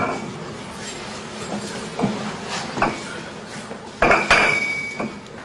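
Gold bars clink and knock together a few times with bright, ringing, crystal-like tones, the loudest clinks near the end, against a soft background hum.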